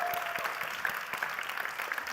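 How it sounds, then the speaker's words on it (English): Audience applause at a university science contest forum in Linz, steady moderate clapping from a crowd, somewhat distant and continuous throughout. "Big applause."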